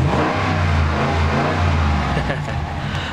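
The Hemi V8 of a new pickup truck rumbles and revs up close, a deep, steady engine drone with low harmonic growl that swells slightly, while someone talks over it.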